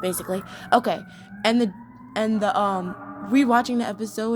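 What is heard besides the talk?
sirens in the background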